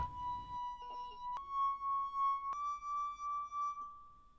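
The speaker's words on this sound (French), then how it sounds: "On va prendre plusieurs verres que l'on va remplir avec plus ou moins d'eau. Et tu vois, le verre ayant le plus d'eau émet un son plus grave." Drinking glasses holding different amounts of water are struck one after another, each ringing out a clear, sustained musical tone that steps slightly higher in pitch, close and quiet with faint clinks between strikes.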